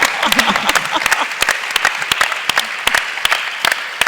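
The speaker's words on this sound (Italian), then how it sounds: "il mio applauso va a loro." Applause from an audience at the Starbucks Dreamers Day 2019 event, a loud, dense patter of many hands with distinct sharp claps standing out and continuing throughout.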